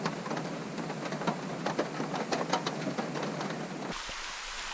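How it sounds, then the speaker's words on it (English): Steady rain drumming on the roof of a Promaster camper van at a campground, dense and even with scattered louder drops, heard from inside, before the sound cuts off abruptly near the end. "One of my favorite things in my van is when it's raining."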